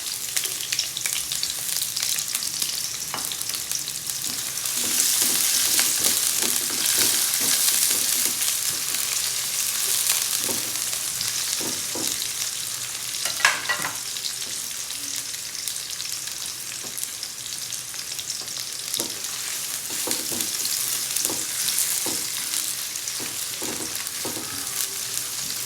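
Onions fry in hot oil in a pan for a Filipino pork dinuguan, a continuous bright sizzle with scattered pops and occasional stirring scrapes, close and fairly steady throughout.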